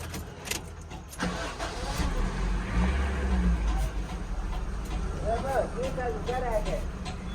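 A Honda Civic engine cranks and catches, then settles into a low, steady idle rumble close by, while someone talks over it briefly near the end.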